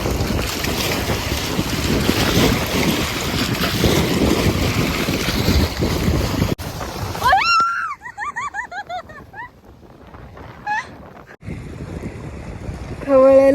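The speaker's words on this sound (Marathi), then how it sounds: "लाटांचा आवाज येत असेल तुम्हाला काही." Waves churn on rough, wind-whipped water at Mulshi Dam, with loud gusts buffeting close by and surf washing repeatedly, then the wind drops and scattered high-pitched sounds and splashes follow.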